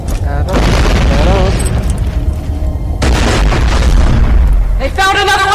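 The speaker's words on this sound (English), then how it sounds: "Grenade!" A loud, booming grenade explosion bursts in Borderlands 2 amid sustained combat noise, with another blast near the end and voices shouting over the din.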